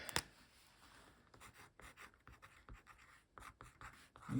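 A pen scratches across the back of a sheet of paper in short strokes and pauses, close and quiet, with small taps between the lines.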